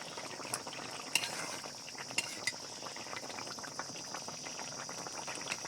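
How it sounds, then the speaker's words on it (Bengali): A potato and damo greens curry simmering in a pot, a faint steady bubbling with a few soft clicks of a utensil. "আলু আর ডেমো শাকের তরকারিটা বেশ সুন্দর করে ফুটিয়ে নিয়েছি।"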